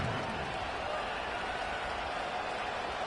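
A stadium crowd at a football game roars steadily as fans rise for a decisive two-point attempt, a dense, continuous wash of cheering filling the space with no break.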